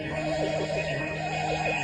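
A donkey brays in a steady, wavering series of loud, rising and falling hee-haw tones, continuous throughout over a faint background hum.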